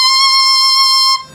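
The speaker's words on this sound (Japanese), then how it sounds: "これが C の音ですよ。 だからコンサート C の音、" A saxophone mouthpiece played alone sounds a concert C, one bright, buzzy sustained note held loud and steady for just over a second before it cuts off.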